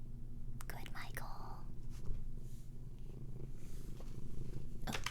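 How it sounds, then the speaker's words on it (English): Soft, continuous low purring rumble close by, with a few brief rustles and quiet breathy sounds over it. "You can probably hear him purring now."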